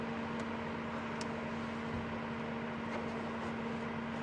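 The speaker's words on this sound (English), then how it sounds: "the power is out and the generators are running" Lodge generators run continuously at a game reserve, giving a steady low rumble with a constant hum and broadband mechanical noise, unbroken for the whole stretch.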